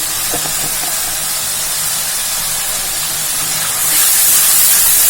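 Tamarind rice masala sizzles and fries in hot oil in a pan, a steady hissing crackle that grows louder and brighter toward the end, with no voices.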